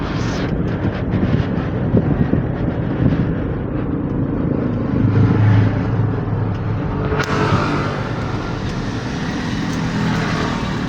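A Mitsubishi Fuso truck on a road test rumbles along, a loud continuous engine drone with shifting pitch as it accelerates and passes, no talk over it.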